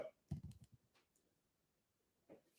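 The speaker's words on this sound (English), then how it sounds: "My keyboard needs cleaning." Computer keyboard keys clicking in a quick burst of close taps, followed by a few scattered softer clicks and a final short tap.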